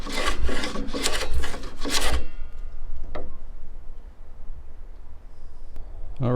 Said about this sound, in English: So I can take a spot planer and just kind of clean that off a little bit